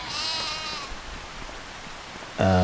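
Sheep bleating in Farming Simulator 25, a single drawn-out bleat near the start followed by a short second call at the end, over steady ambient game noise.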